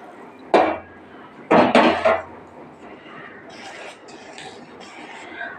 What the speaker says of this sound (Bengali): এবার ভালো করে ব্যাটারটা মিক্স করব।